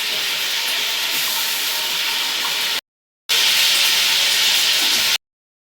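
Cashews and raisins frying in a pan for coconut halwa, a loud, steady broadband sizzle and hiss heard close up, cut by two brief silent gaps.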